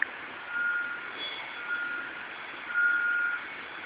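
Trucks maneuvering to cross a bridge in heavy rain in the Rondônia Amazon forest, with repeated reversing beeps over a steady, faint engine rumble and rain hiss at a distance.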